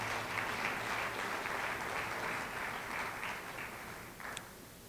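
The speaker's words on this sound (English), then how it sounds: "Please give a very big round of applause to all." Audience applause for distinguished speakers at a conference on inclusiveness and democracies, a broad, continuous patter of many hands clapping that gradually softens toward the end, with a brief sharper sound just before it fades.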